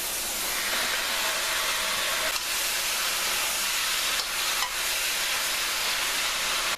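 Tomatoes go into a hot pan for chicken and lentil curry, raising a loud, steady sizzling hiss with a few brief crackles, close by and without talk.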